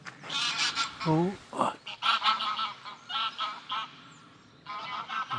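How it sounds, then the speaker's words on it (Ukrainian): Two noisy geese honk repeatedly nearby in a quiet field in Denmark in spring, loud nasal calls in overlapping bursts with brief pauses, and a quiet voice is heard among them. "Ось двоє галасливих гусей."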